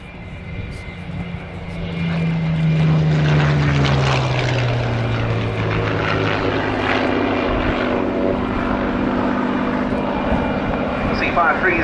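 Supermarine Seafire Mark III, a Westland-built Fleet Air Arm propeller fighter, flies past at an air festival: a loud, sustained piston-engine drone rising in the first seconds and holding steady, with its pitch shifting as it passes.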